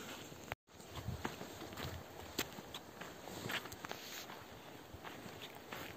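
A hiker walks along a forest trail in Finland, the footsteps landing in a steady close rhythm on the path under a constant hiss of outdoor wind and ambience.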